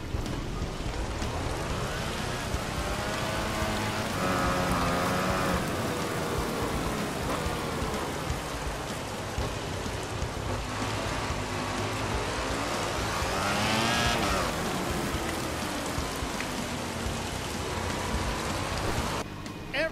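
Steady rain hisses across a soaked race track in Valentino Rossi The Game, a continuous broadband wash with motorcycle engines whining and rising faintly beneath it throughout.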